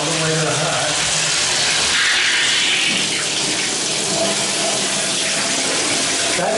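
Water runs steadily from the tap into a newish bathtub with a tall shower head, turned fully to hot, a continuous loud hiss and splash with some background talk.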